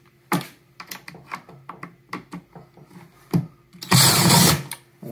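Screws being loosened on the cover of a DAB EsyBox water pump: a series of short, close clicks and ratcheting ticks from the screwdriver, followed by a louder, longer scraping burst near the end, with no talk.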